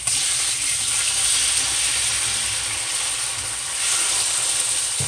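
Salmon pieces frying in a hot pan give off a steady, loud, bright sizzle that holds evenly throughout, with faint crackles and no talk.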